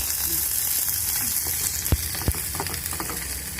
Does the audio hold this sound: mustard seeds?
yes